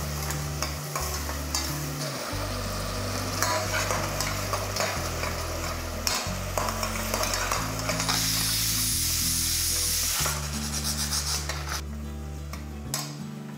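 Chopped tomatoes are stirred into frying onions for a chicken gravy, a spatula scraping and clattering against the pan over a steady sizzle, with music in the background.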